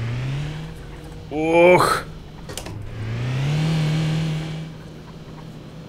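A naturally aspirated BMW M V10 engine in City Car Driving hums at idle, then whines up sharply in a quick rev with a startled voice exclaiming over it, followed by a second swelling rev that fades back down.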